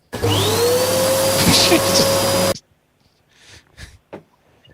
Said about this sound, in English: I started the vacuum.